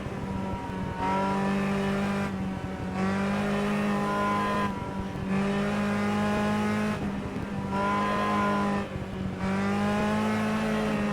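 A sim racing car in Automobilista revs under throttle, its engine note rising and falling in repeated pulls with short gaps between, loud and steady with a strong harmonic drone and no talk.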